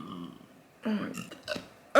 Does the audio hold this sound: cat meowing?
no